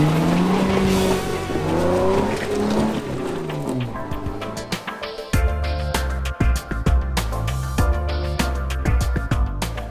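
Jeep engine revving through an aftermarket exhaust pipe, with rising and falling engine tones at first, then a series of sharp pops and bursts from the exhaust, loud and close.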